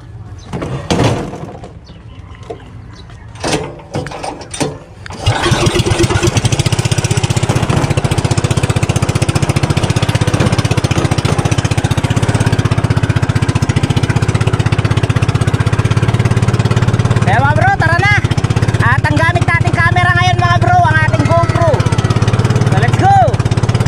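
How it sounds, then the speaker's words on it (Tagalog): A motorized wooden fishing boat (bangka) engine starts after a few knocks and rattles, then runs loud and steady with a constant chugging drone; voices talk over it near the end. "umandar mga bro ng ating bangka"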